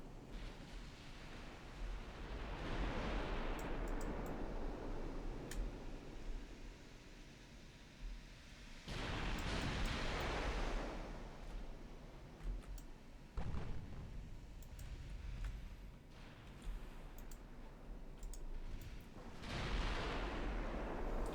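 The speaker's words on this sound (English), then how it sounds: "That sounded like an 8-inch gun opening up." An 8-inch naval gun firing in the naval warfare game Ultimate Admiral Dreadnoughts, several heavy booming blasts each trailing into a long rumbling roar, spaced apart over a constant background wash.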